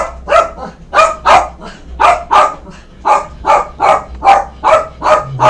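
A dog barks loudly and repeatedly in a steady rhythm, about a dozen sharp barks in quick succession, close by with no talk over it.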